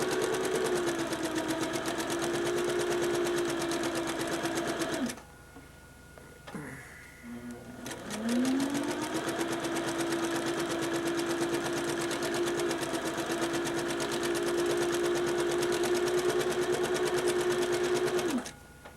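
A sewing machine stitches fabric for a model circus tent, a close, steady whirring hum running for about five seconds, pausing briefly, then resuming in a longer even run before stopping.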